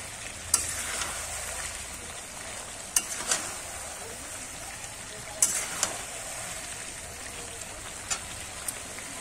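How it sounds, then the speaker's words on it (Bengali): Curry sizzles and bubbles steadily in a pan with a constant hiss, broken by a few sharp clinks of a spoon stirring it, close up with no talking. "এবার একটু নেড়ে দেব।"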